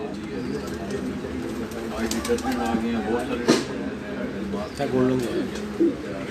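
Pigeons coo softly in low, repeated calls, with other birds chirping nearby and people talking in the background.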